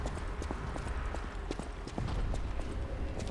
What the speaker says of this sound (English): hearing stomps